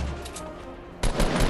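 Gunfire from the Fortnite video game, heard in Tilted Towers, starts abruptly about a second in as a dense, loud burst of rapid shots after a quieter stretch of game ambience.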